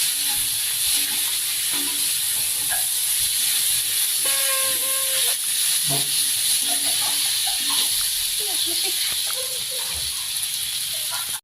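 Chopped onions hit hot oil already seasoned with two bay leaves, a loud continuous sizzle and hiss for frying Baim fish curry, with light stirring clinks scattered throughout and no voices.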